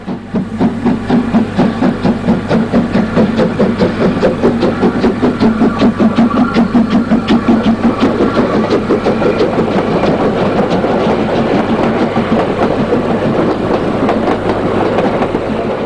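A 210-2 steam tank locomotive rolls steadily into Radibühl East Station in East Germany, with rhythmic clickety-clack of wheels over rail joints and a rumbling engine, loud and close throughout.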